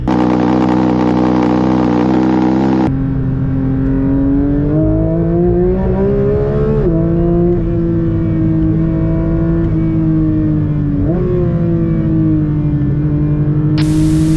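Porsche 911 992 GT3 on a track, its engine and exhaust loud and close: a harsh high-rev blare that drops to a steady drone with pitch sweeps through gear changes, rising again near the end.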